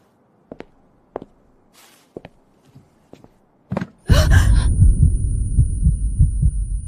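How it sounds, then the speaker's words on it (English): A heartbeat sound effect plays: sparse, sharp thumps spaced about half a second to a second apart, then a sudden loud swell of dense, sustained noise with a high steady tone takes over. "Everything stands still. Only the heartbeat roars."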